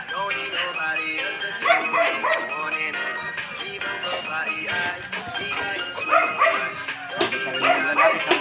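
A Doberman barks and yips repeatedly in a loud, close, busy burst of excited barking and whimpering, with people talking underneath.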